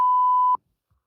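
A steady censor bleep tone over a podcast conversation about a spoiler, holding loud and alone for about half a second before cutting off sharply into silence.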